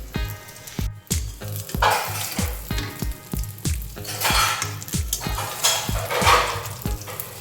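Eggplant slices frying in oil in a home kitchen: a constant sizzle punctuated by regular, evenly spaced clinks of a utensil against the pan, close and fairly loud, with no talking.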